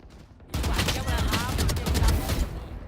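Rapid gunfire from the video game Valorant, a dense continuous burst of shots starting abruptly and sustained loud and close for over two seconds.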